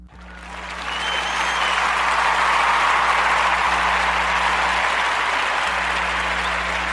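A round of applause for the Tulsa Initiative fills the room, a dense, steady wash of many hands clapping that swells within the first second and holds loud and even to the end, with a low hum beneath.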